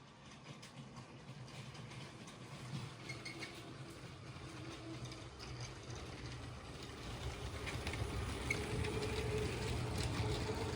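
A LEGO logging train runs on toy track, with a steady low rumble and faint clicking of the cars rolling along the rails. The sound grows a little louder toward the end as the train comes closer, with no talk over it.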